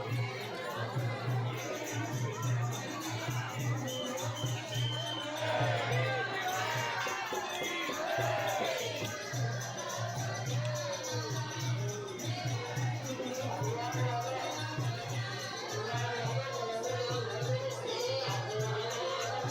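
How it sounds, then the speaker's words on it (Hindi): Dense crowd babble fills the packed Banke Bihari temple in Vrindavan, a steady murmur of many voices with a constant low hum underneath, near and unbroken. "भीड़ से खचाखच बाके बिहारी मंदिर"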